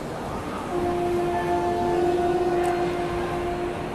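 An Indian Railways train arrives, with a WDG 6G diesel locomotive nearby, heard as a steady mechanical rumble carrying sustained tonal whines that swell for a few seconds and then fade, with no talk.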